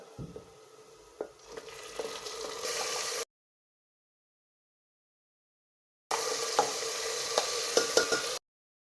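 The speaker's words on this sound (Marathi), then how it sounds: "परतून घ्यायचं म्हणजे मसाला आणि कांदा एक झाला पाहिजे" Masala and onion being sautéed in a pan for home-style vegetable biryani, with close stirring and frying sizzle in two bursts separated by a silent gap, plus occasional scraping clicks.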